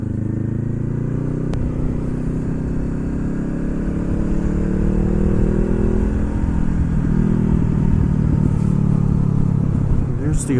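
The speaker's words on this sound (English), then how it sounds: "we got some little wheelie action over here" A motorcycle being ridden on Miami streets while the rider pops a small wheelie, its engine droning loud and close throughout, the pitch sliding and climbing as it revs.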